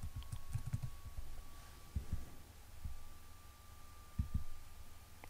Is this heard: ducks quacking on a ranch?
no